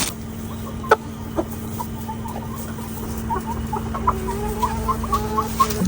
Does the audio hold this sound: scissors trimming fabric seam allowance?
no